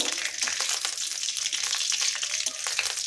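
Curry leaves frying crisp in hot oil for a Bengali poha snack, a steady close crackle and sizzle with fine popping throughout, no voices.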